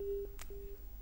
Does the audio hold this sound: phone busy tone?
yes